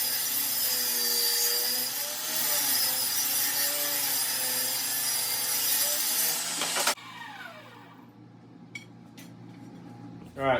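A power saw cuts oak trim pieces for a gun rack, a loud steady whining buzz lasting several seconds that stops abruptly, followed by quiet workshop clicks and a final knock.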